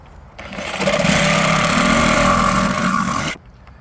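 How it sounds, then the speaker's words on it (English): A jigsaw cuts through a section of wooden plank in one loud, steady buzzing burst lasting about three seconds, with quiet before and after. "for minor adjustments like removing this section, a jigsaw works great."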